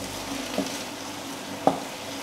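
Pasta is tipped into a pot of boiling water in a home kitchen, with a continuous bubbling hiss and two brief soft knocks of the pasta and pot, and no talk.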